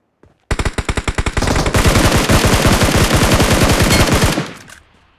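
Automatic gunfire in PUBG Mobile, a few quick single shots followed by a long, loud, rapid burst of machine-gun fire lasting several seconds before cutting off, with no talk over it.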